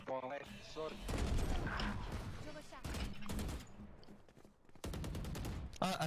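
Rapid automatic gunfire in the video game Valorant comes in dense repeated bursts, loud and close, with a voice speaking over parts of the action.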